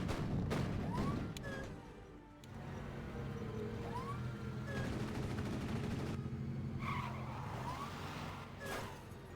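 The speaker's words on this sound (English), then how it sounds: "APC, making its presence felt with its 30mm chain gun." Bradley APC's 30mm chain gun firing in the video game Full Spectrum Warrior, a few loud bursts among skidding vehicle noise and battle clamor, with faint voices mixed in.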